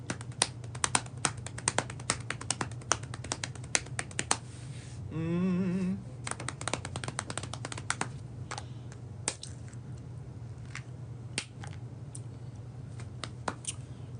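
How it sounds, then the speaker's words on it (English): A tarot deck being cut and handled, giving quick sharp card taps and flicks in an irregular clatter, plus a brief soft shuffle near the middle. "And then we will cut this deck and get into the Capricorn reading."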